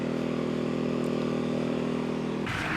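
A BILT HARD 2500-watt inverter generator runs steadily under a light 500-watt load, giving off a constant close droning hum that breaks off into a shorter, rougher burst near the end.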